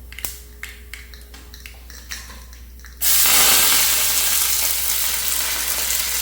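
Chopped shallots hit hot oil with mustard seeds for a Kerala pineapple pachadi, bursting into a loud, steady sizzle after a few faint clicks and taps, then crackling on close and continuous.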